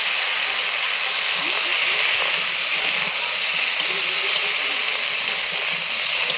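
Potato and cauliflower pieces sizzling in hot oil over cumin seeds as they are stirred for a village-style bata fish curry, a loud, continuous close hiss with faint scraping and no voices.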